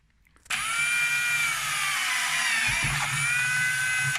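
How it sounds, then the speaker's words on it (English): A power drill starts abruptly and whines steadily at close range, its pitch dipping slightly as the bit bites into the end of a pipe, with no talking. "We're just going to drill a hole in the end of the pipe to take the fitting."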